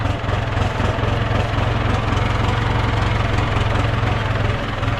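A 6640 tractor plows grass in an overgrown rubber plantation. The engine gives a loud, close, unbroken drone with a steady pulsing knock throughout, and no one speaks.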